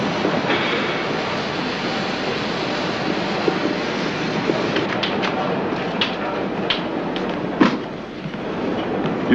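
A train passes on the Berlin line in a wartime setting, with a steady loud rumbling roar, faint rhythmic clatter of wheels and a few sharp knocks as the cars roll by.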